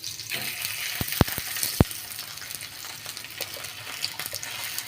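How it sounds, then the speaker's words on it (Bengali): A cauliflower paratha fries in oil over low heat, giving a steady soft sizzle and crackle close by, with a few sharp clicks and taps from a pan or utensil. "পরোটাগুলো এবার আমি খুব ভালো করে ভেজে নেব"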